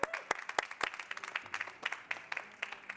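An audience at a startup awards final on smart cities claps for a presenter coming on stage, with sparse, uneven individual claps rather than a full ovation, fairly quiet and thinning out.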